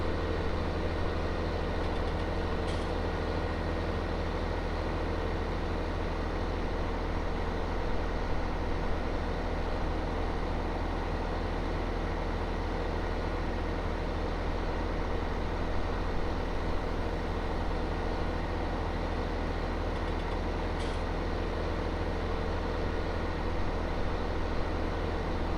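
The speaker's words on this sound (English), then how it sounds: "I'm going to give you guys just a few, about 35, 40 seconds so you can hear the tractors." Tractor engines idling steadily in the farming game Farming Simulator 19, a continuous low droning rumble at constant level throughout, with no voices.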